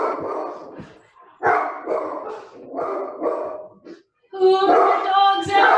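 A dog barks in repeated bursts indoors during a home exercise circuit workout, fairly loud and close, with people talking over parts of it.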